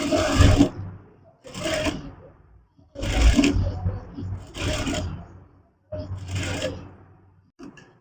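A sewing machine stitching around cloth for a long frock with a Madhubala-style neck design, running in five short bursts separated by brief pauses, fairly close.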